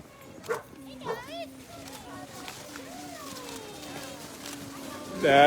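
Sled dogs of a team finishing the Willow 300 sled dog race in Alaska give scattered yips and whining barks, a few sharp calls among steadier crowd noise, with people talking nearby throughout.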